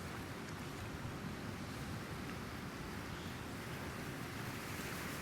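Steady ocean waves wash over open sea in the ship simulation game European Ship Simulator, with a constant broadband surf roar and wind hiss holding at an even level throughout, no other sounds.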